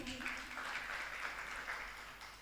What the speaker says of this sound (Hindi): एक बार युवा मंडल के लिए ताली बजाएं।